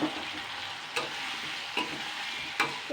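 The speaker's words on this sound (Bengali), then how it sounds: "এবারে যে মেটে আলুটা সিদ্ধ করে রেখেছিলাম সেটা আমি একটুখানি হালকা ভাজা করে নেব।" Boiled yam lightly frying with spices in a pan makes a soft, even sizzle, broken by a few sharp scrapes and clicks of stirring.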